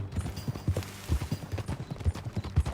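Horse hooves clip-clop at a steady rhythmic gait in the Western game Red Dead Redemption 2, with close, distinct, evenly spaced hoofbeats throughout.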